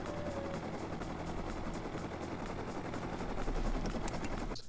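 A minicopter in the game Rust flies with a steady rotor and engine drone, fairly close and continuous, swelling slightly louder near the end.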